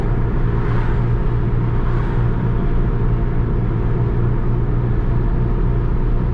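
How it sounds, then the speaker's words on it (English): Road traffic rolls by as heard from inside a moving car on a weekday drive, a steady, dense low rumble of tires and engines with no break. "Quite a bit of traffic out."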